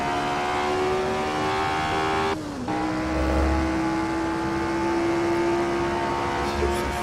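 Race car engine at full throttle on a fast back straight at Goodwood in Assetto Corsa, a loud, steady high-pitched howl with a brief dip around a gear change before pulling on at full power.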